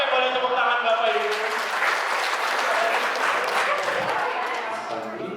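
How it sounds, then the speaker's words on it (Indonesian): Applause from the congregation at a parish event in Cijantung, dense and steady for several seconds at close range, with faint voices mixed in and tapering slightly toward the end. "Oke, boleh tepuk tangan Bapak Ibu."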